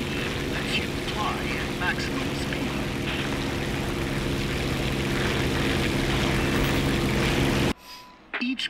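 Propeller aircraft engine droning steadily as the throttle rises in War Thunder, a dense continuous hum that cuts off abruptly near the end, leaving brief faint sounds.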